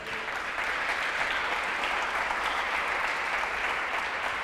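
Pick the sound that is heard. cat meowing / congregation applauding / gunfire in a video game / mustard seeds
congregation applauding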